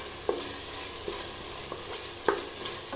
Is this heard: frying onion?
yes